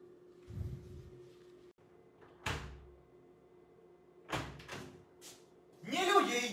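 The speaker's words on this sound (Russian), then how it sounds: "Кто-то стучит в дверь." Several separated knocks and thumps on a door in a quiet room, a single hit, then a quick cluster of raps, with a voice speaking at the end.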